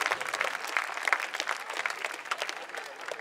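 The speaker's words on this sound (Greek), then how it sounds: "Θέλω να μου δώσετε ένα χειροκρότημα." A theatre audience at a Greek comedy show applauds in a dense, continuous patter of clapping that fills the room, steady and fairly loud throughout.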